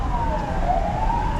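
Ambulance sirens wail, rising and falling steadily over a low traffic rumble in Taipa, Macau, fairly loud and continuous, with no voices present.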